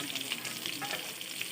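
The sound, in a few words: onions sautéing in a pan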